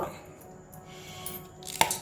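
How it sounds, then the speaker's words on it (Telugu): Faint knife chopping on a board, sparse light taps with one sharper cut near the end, quiet surroundings. "పచ్చిమిర్చిని ఇట్లా కట్ చేసుకొని పచ్చాగా వేసుకోవాలి"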